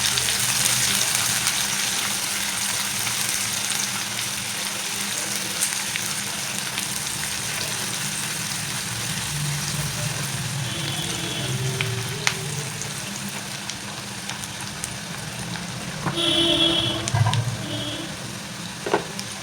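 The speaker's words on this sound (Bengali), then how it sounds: "এবার পেঁয়াজটাকে একটু ভেজে নিচ্ছি" Chopped onions and green chillies fry in hot oil in a home kitchen for a fish curry. The sizzle is steady and continuous with faint clinks, and no one speaks.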